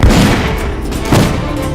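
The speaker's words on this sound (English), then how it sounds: "let's use our newly upgraded pistols to take up some of his guards, and finally, a headshot to take him out" Loud pistol gunshots ring out in the video game Assassin's Creed, two heavy booming reports about a second apart over dense game noise, with no talking.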